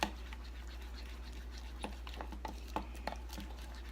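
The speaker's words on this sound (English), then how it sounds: "Mix that up really well, get the lumps out of it." Batter for a 90-second keto English muffin being stirred in a bowl, with light scraping and tapping of a utensil against the sides, a few sharper clicks standing out over a steady low hum.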